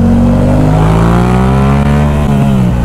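A motorcycle accelerates hard on a road with a 50 limit, its loud, close engine droning steadily with a slowly climbing pitch that eases off near the end.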